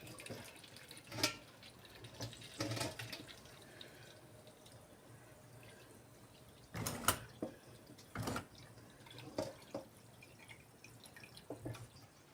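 Cold water being poured into a jar of hot peppers being pickled, heard as irregular splashes and gurgling bursts with quiet gaps between them.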